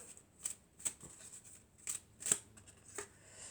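Tarot cards being shuffled and drawn during a card reading, a series of crisp, close snaps and flicks spaced irregularly about every half second, with quiet pauses between them.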